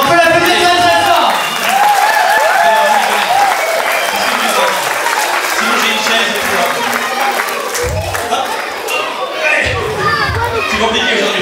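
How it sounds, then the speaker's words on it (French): Festival audience at Les Framboizik in Valframbert applauding loudly for a volunteer joining the stage, steady dense clapping mixed with children's voices and crowd chatter throughout. "Alors on peut l'applaudir très très fort."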